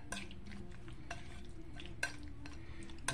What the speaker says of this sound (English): I'm going to kind of stir it up here